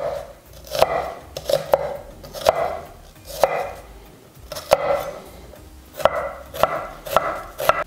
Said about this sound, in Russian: Нарезаем кубиком.